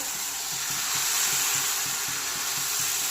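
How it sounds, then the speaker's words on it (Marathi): Bhanoli batter, a spoonful poured onto an oiled pan, sizzles with a close, steady, even hiss that holds throughout. "आता आपण त्याला तेल लावून घेऊ असं तेल लावून घ्यायचा आणि एक चमचा असं पीठ टाकलं मी"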